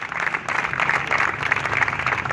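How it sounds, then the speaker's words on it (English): Applause from an audience at an activists' independence celebration in Westfield: dense, steady clapping from many hands, fairly loud and continuous for a couple of seconds. "can you please give him a round of applause?"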